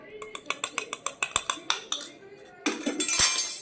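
A spoon clinks repeatedly against a metal bowl while powdered sugar is stirred into karanji filling, a steady rhythm of sharp taps followed by a denser, scraping stretch of mixing.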